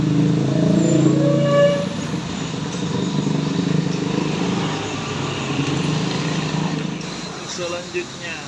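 A tour bus passes on a road in Aceh, its engine a loud broad rumble with traffic noise around it and someone talking over it.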